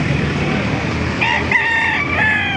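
Roosters crowing amid a crowd of newly arrived chickens at a busy poultry market in Baliuag, several overlapping crows rising out of steady market din, fairly loud and close.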